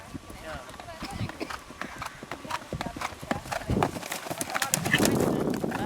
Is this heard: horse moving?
yes